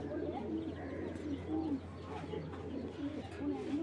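Grizzle racing pigeons cooing softly in a loft, repeated low throaty coos and a few light chirps at close range, quiet and unhurried.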